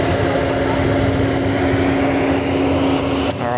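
An airliner at Sydney Airport taxis toward runway 34 right for departure, its engine producing a loud continuous drone with a steady whine, fairly near, with a short thump near the end.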